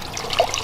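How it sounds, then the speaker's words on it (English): Water trickling down a garden waterfall, a steady soft gurgling flow with a slight swell midway, fairly close with no talking. "we've got some water coming down here into this area"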